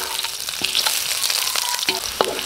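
Onion sautéing in hot oil with golden-browned ginger and garlic for Filipino escabeche, a steady close sizzle with a few scrapes and light stirring clicks throughout.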